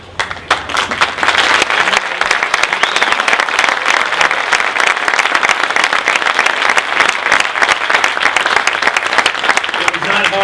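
A large audience applauds astronauts at an evening event, loud, dense clapping that swells after a quieter start and continues steadily, with some voices in the crowd.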